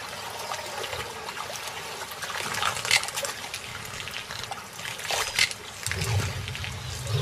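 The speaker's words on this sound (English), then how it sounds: "Thin trickles of water weave through rocks." Thin trickles of water weaving through rocks in the shrinking Mara River, a soft, steady dribble with faint splashes, carrying on continuously with no voices.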